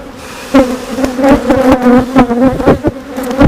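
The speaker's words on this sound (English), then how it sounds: "So that's a frame I would leave for the bees." Steady droning buzz of many honeybees swarming close by at an open hive, with sharp clicks and knocks from handling a heavy, honey-filled hive frame.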